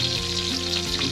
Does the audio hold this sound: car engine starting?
no